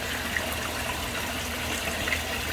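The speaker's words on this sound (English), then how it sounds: "this kicks up the stuff along the bottom, and it's going to get sucked into the skimmer" A pond pump and skimmer move water in a steady, close rushing wash that stays even and unbroken throughout, with no voices.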